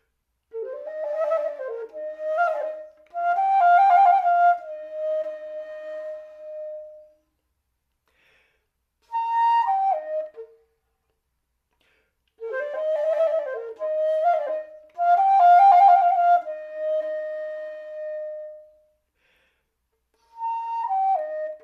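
A solo baroque flute plays expressive melodic phrases with pauses between them, notes swelling and sustaining, clear and close with no accompaniment.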